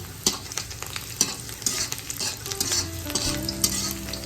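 Garlic sizzles and frying in a pan for a Hakka noodles dish, a steady close crackle punctuated by sharp scraping stirs and tool knocks, with a faint rising tone near the end.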